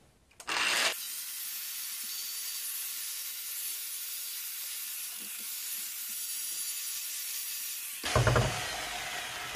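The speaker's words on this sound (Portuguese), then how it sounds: "vou utilizar aqui uma politriz da Bosch, tá? Pra poder dar um acabamento aqui em baixa rotação" Bosch polisher running at low speed over a burnt wood log, a steady high-pitched whirring hiss that holds for about seven seconds between louder bursts of contact at the start and end.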